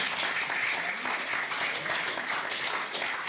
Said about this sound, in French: je vous propose qu'on applaudisse nos intervenants pour les remercier